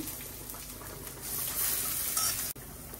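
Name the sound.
lentil fritters with chopped green chillies frying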